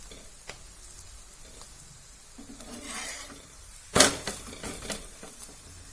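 Cabbage and carrot paratha frying with oil in a pan, a soft continuous sizzle broken by scraping and stirring touches, with a sharper burst of crackle and spatula sounds partway through; no talking.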